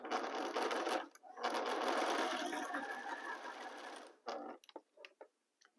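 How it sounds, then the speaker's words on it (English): A sewing machine stitching a fabric seam with a quarter-inch seam allowance runs in a close, steady whir, pauses briefly, then resumes before stopping, leaving a few soft handling clicks. "line up the fabric and join them using 1/4 of an inch seam allowance."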